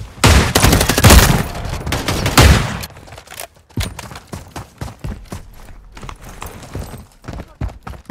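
Rapid bursts of gunfire from a military video game, dense and loud for the first few seconds, then thinning into scattered sharp shots and clatter.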